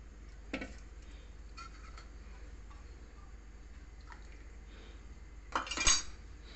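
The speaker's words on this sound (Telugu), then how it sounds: "ఈ చిక్కపడేదాకా కలుపుకోవాలి." A spoon stirs a boiled-milk custard mixture for bread custard pudding until it thickens, giving sparse, soft clinks against the pan and a louder scraping burst near the end.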